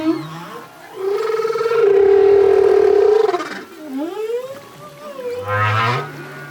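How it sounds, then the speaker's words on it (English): A male humpback whale sings a series of long moaning and rising, swooping tones that swell and fade over several seconds, loud and clear with no voices. "It's the song of a male humpback whale."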